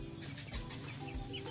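Village chickens about six weeks old, kept in a pen, clucking in soft, overlapping calls close by, with a steady murmur of background noise and no talking.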